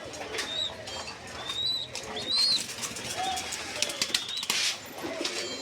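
Young Danish pigeons flutter and flap their wings nearby while soft coos and short chirpy calls rise and fall throughout.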